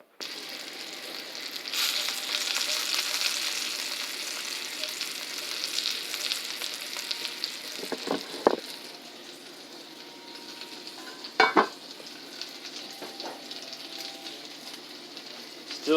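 Kielbasa sausages frying in butter and bacon grease give off a steady, close sizzle with a few brief clanks of utensils against the pan, and no talk.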